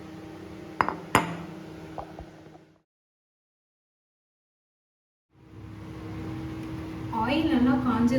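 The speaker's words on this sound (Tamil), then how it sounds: "எல்லாமே உடைச்சு இந்த மாதிரி ஒரு பவுலில் எடுத்துக்கோங்க." Eggs, six in all, are cracked into a bowl in a home kitchen for Tamil-style egg fry. Two sharp clinks of shell on the rim come near the start, followed by softer clatter, a silent gap, then light kitchen noise with a voice.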